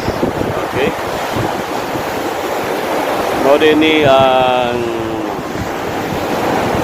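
Sea waves and wind on the shore at General Santos City in the Philippines, a continuous roar of surf and buffeting wind close to the microphone, with someone talking over it and a brief tonal whine in the middle.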